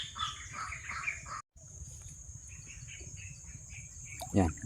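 A small bird chirps from somewhere overhead near a pest-control bird trap, giving brief, faint twittering calls at a distance over a low insect hum.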